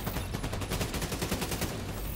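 Sustained, dense gunfire from The Division 2, rapid overlapping shots filling the whole stretch at steady loudness with no talk.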